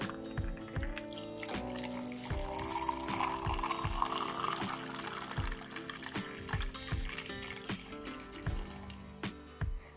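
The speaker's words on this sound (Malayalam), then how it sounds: "എന്നിട്ട് നമുക്കിതിലേക്ക് വെള്ളം ഒഴിച്ചു കൊടുക്കാം" Water is poured into a serving glass packed with ice cubes, giving a close, steady liquid trickle under sharp clinks and taps of ice against the glass, some of them spaced apart, with no talking.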